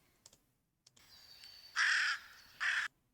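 A raven call played back from a bird-sounds phone app: a faint tap or two, then two loud harsh croaking caws, each roughly a quarter second long, with a short pause between them.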